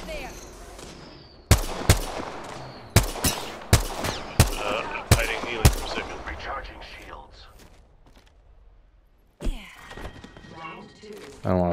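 Gunfire in an Apex Legends-style shooter video game: a string of sharp, loud shots in quick succession, then a pause and a final burst of shots near the end.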